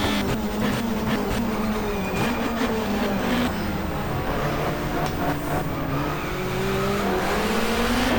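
Touring cars racing in GTR2 at a 1994 Asia-Pacific championship round, BMWs leading the pack: dense, overlapping engine roars at high revs with shifting pitch, loud and constant, with brief tire squeals amid the field.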